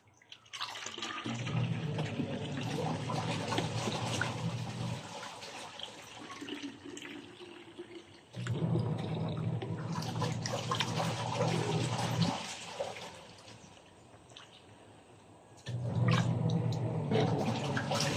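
Water hisses out in three long bursts of spraying, each several seconds, separated by quieter pauses with soft dripping and handling sounds.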